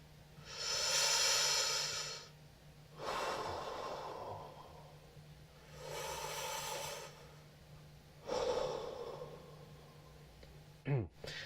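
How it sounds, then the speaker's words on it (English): A singer breathes out during a breathing exercise in four long, airy exhalations separated by short pauses, each a soft close hiss, followed by a brief quick sound at the very end. "and breathing out here"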